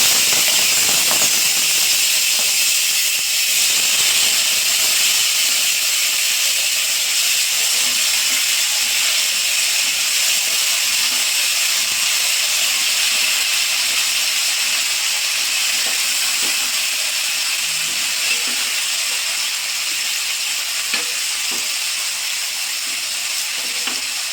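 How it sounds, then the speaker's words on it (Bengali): Steamed peas, potato and squash go into hot oil tempered with dried chillies, bay leaf, nigella, fennel and cumin, giving a loud, steady, close sizzling hiss that lasts throughout with no talk. "এখন আমি এই ভাপিয়ে রাখা মটরশুঁটি, আলু আর কোয়াশটা দিয়ে দেব।"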